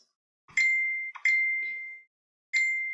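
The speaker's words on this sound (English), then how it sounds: "my phone is blowing up" Phone notification chimes, three bright electronic dings each ringing out briefly, the second with a quick double tap, against silence.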